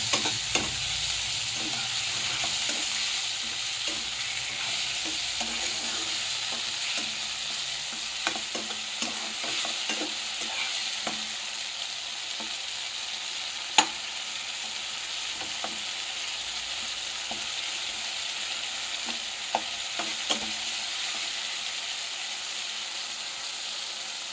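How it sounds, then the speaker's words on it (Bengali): A paste of ground coriander, cumin, ginger and green chilli is sautéed in a pan, a steady sizzle and frying hiss with repeated scraping strokes of a spatula and an occasional sharp click. "এটা একসাথে ভালো করে একটু কষিয়ে নেব মশলাগুলো"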